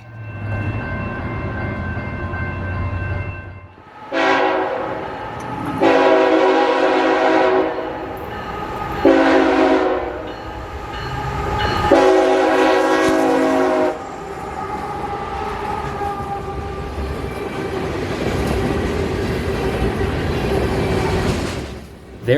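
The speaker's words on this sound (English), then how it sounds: "the last few trains that I was able to document still blowing their horns through downtown" A CSX freight train sounds repeated long horn blasts while rolling through downtown Cartersville, loud and close, with steady rumble and wheel noise underneath between and after the blasts.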